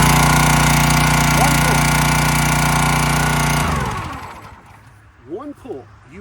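A gasoline engine on a hydraulic wood splitter runs loud and steady nearby, then drops off, leaving quieter background sounds with a few brief chirps.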